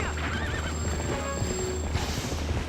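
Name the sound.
horse neighing in video game Zelda: Twilight Princess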